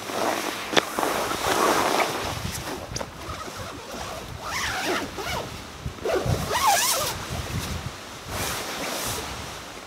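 A hammock zipper drawn in several short rasping pulls, close by, with rustling fabric and shifting movement between the strokes.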